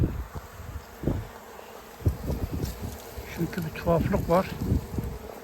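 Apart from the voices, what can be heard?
honey bee swarm at a hive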